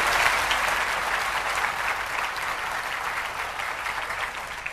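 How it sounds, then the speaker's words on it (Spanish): Dense, continuous clapping from a church congregation fills the space, loud and unbroken from start to finish with no voices on top. "Dale el aplauso al rey."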